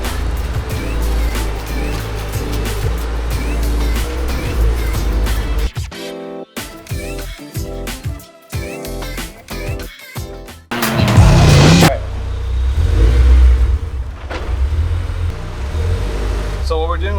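A Honda S2000 sports car passes by outdoors, its engine and road noise rising loud and then fading over several seconds, with a gimbal-mounted camera operator trying to keep pace.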